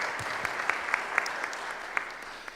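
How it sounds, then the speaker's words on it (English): A small audience at a health and humanitarian logistics workshop gives brief, light applause, with scattered distinct claps over a soft, steady wash of hand noise. "so give her a round of applause, actually."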